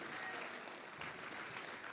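An audience at a Republic Day mushaira in Dubai claps in a dense, even burst of applause, with faint voices underneath.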